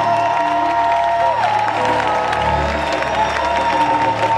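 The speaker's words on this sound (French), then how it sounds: "Qu'on nous entende de partout, nous acclamons Jésus" A large crowd at an evangelical worship gathering applauds and cheers in praise of Jesus, a loud, continuous wash of clapping and voices that fills the whole stretch without a break.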